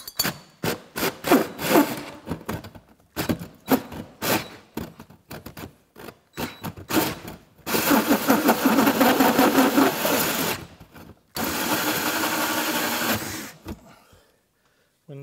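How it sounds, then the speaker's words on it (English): Power drill cutting with a hole saw in bursts, a grinding whine rising and stopping several times, longer sustained cuts toward the end. "when drilling with a hole saw,"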